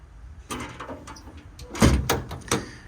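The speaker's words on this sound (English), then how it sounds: "All the drawers slide great, lock in place" Several clunks and sliding rattles of metal tool drawers on a Ford F-450 service truck body, with a sharp latching knock near the end, close and fairly loud with no talking.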